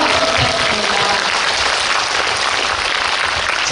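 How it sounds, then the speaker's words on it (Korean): Loud, sustained applause and clapping from a large cinema audience at a Korean film premiere live talk event, a dense continuous roar of hands with no break. "큰 박수 부탁드립니다"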